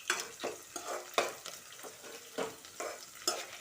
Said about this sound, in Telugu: నెక్స్ట్ కరివేపాకు వేసుకుంటున్నాను. చూడండి ఎలా వేగుతున్నదో.